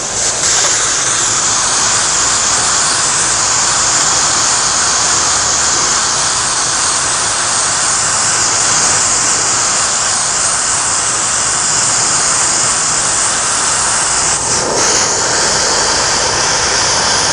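Airbrush spraying paint onto plaques, a continuous close, loud hiss of air held steadily for the whole stretch, with a brief faint knock near the end and no talking.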